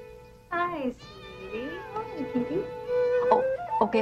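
A cat meows several times up close, drawn-out and wavering cries with short pauses between them.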